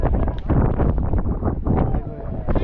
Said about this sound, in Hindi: क्या सही हवा चल रही है।